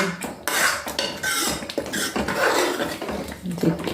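Tadka tempering roasting in a pan on a home kitchen stove, heard as close, steady clinks and scrapes of a utensil against the metal pan with a faint background sizzle, nearly continuous for several seconds.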